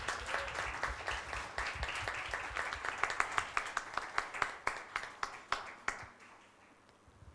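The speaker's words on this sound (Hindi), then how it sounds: "तालियां यीशु मसीह के लिए." A church congregation applauds during a Sunday service, the clapping settling into a rhythmic unison beat that grows sharper before fading out.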